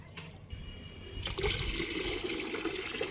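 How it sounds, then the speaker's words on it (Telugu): Plain water poured into a blended plant fertilizer mix of soaked rajma, jaggery and sesame oil: a quiet start, then a loud continuous rushing pour that fills the rest, close by. "ఇలా ప్లెయిన్ వాటర్ ఇందులో వేస్తాను"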